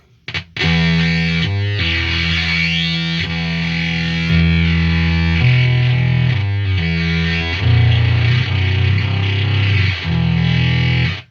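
A loud, distorted Frequency~LSD effects pedal drones with heavy, booming bass, shifting between sustained low tones as the feedback howls steadily.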